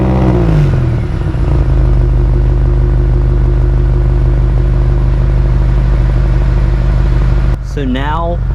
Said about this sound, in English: You turn the car on and you get an amazing sound out of these double stacked exhaust tips